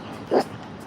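A dog gives one short, sharp bark or yip, brief and fairly close, over a quiet indoor background.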